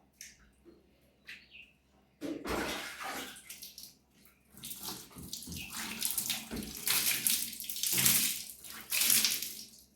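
Water gushes and splashes while a Bosch Series 6 front-load washing machine is washed out, loud and close in uneven surges after a quiet start, with faint bird chirps in the background.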